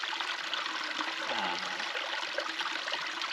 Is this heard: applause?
no